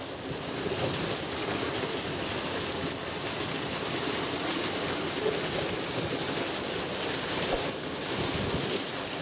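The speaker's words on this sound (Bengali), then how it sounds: "দেখতে পাচ্ছেন দর্শক বৃষ্টির টোপ কত জোরে জোরে পড়ছে প্রচুর বৃষ্টিপাত" Heavy rain pours onto a waterlogged road in Meherpur, making a dense, steady hiss and patter throughout, loud and even with no talk.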